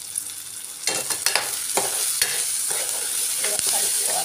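Drumsticks being stirred in a pan with turmeric and salt, a steady sizzle with a series of scraping, clattering spoon strokes, close and fairly loud with no talking.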